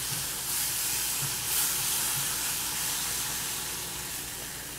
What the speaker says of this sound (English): And then I'm going to add the fish stock.